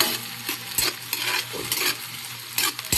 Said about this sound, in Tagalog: Ganito ako maluto ng sinigang. Talagang ginigisa ko maigi.